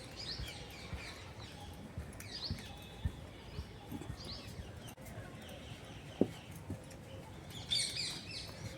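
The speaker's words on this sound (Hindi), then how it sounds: "देखिए चिड़ियाँ कैसे चहकती हैं यहाँ" Birds chirp in a green, tree-filled garden at Jallianwala Bagh in Amritsar, with faint scattered calls and a brighter burst of tweets near the end over a low outdoor background.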